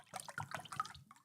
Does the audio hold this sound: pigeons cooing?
no